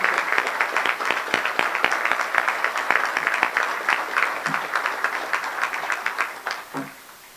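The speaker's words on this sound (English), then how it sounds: "also be offered our applause for all that you do all year" An audience at a Salvation Army Christmas breakfast applauding, a sustained room full of clapping at steady loudness that thins and fades toward the end.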